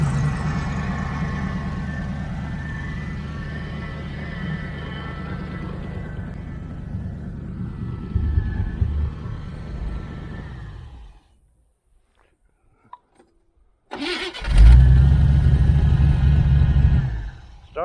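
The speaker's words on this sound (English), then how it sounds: "Starts right up in idles, but you punch it and it just dies." A 1980 Camaro Z28 with new headers idles with a steady low rumble, then dips and cuts out to near silence. The engine fires up again and roars loudly near the end.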